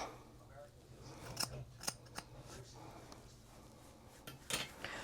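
Sharp scissor snips cutting hair during a haircut, several separate crisp cuts spaced irregularly and heard close against a quiet room background.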